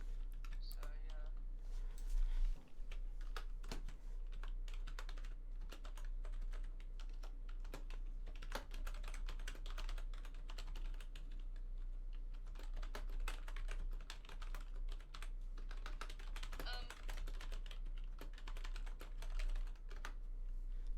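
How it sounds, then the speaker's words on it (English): A loud computer keyboard clatters with rapid, continuous keystrokes during a Minecraft game stream, close to the microphone, with faint talk in the background. "Sorry about my obnoxious keyboard."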